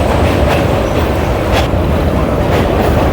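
A local train between Sealdah and Howrah rumbles loudly from on board, wheels clacking over rail joints at roughly one-second intervals beneath a constant roar.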